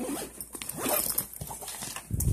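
Zipper on a Cars Lightning McQueen children's book bag being pulled open or shut, a close scratchy rasp in short bursts with some handling rustle and a louder thump near the end.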